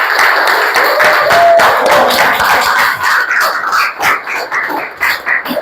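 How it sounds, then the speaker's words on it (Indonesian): A classroom of students claps together during a religious education lesson, loud uneven clapping that thins out into scattered claps toward the end. "tepuk tangan buat kita semua"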